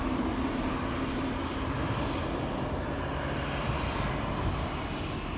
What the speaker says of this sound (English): when something is taking off you usually hear it. Next airplane taking off here is going to be KLM flight